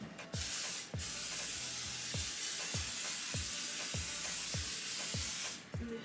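A close, continuous hiss of cooking spray sprayed into a pan, with faint rhythmic ticking underneath and brief breaks at the start and end.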